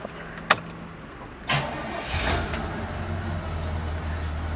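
A 1968 Pontiac LeMans with a fresh tune-up started with the key, opening with a couple of sharp clicks, then a short crank that catches and settles into a low, steady idle, close and fairly quiet.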